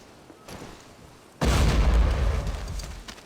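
A loud, deep boom bursts out as a barrel is destroyed in the Hidden & Dangerous shooter, with a rumbling tail fading over a couple of seconds after a quieter lead-in.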